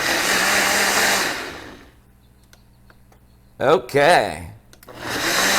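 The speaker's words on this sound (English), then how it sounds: "use your food processor, blender, whatever you would like to use" A kitchen food processor or blender whirs loudly while blending a port fig reduction sauce, cutting out for a pause in which a voice speaks briefly, then starting up again near the end.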